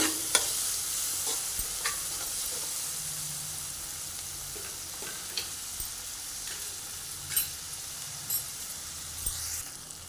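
Ginger-garlic paste and turmeric are stirred into softened tomatoes and onions in a frying pan for a masala egg curry. A faint, steady sizzle runs throughout, broken by occasional soft spatula knocks and scrapes.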